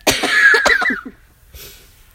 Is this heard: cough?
yes